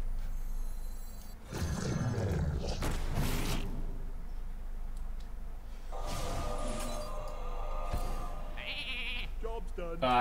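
Sheep bleat from a polymorph spell in the card game Hearthstone, heard among game sound effects, a crash and mechanical clatter, with a continuous low background bed.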